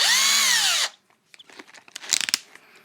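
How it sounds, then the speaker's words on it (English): A power drill with a 2mm bit whines loudly for under a second, its pitch bending as it bores a pilot hole, then stops, followed by light clicks and handling sounds. "So we can pre-drill the holes for our screws"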